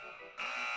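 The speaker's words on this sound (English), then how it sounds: "It's the alarm!" A loud, harsh security alarm buzzer kicks in abruptly and drones on steadily at one pitch, sounding alone after a brief quiet lead-in.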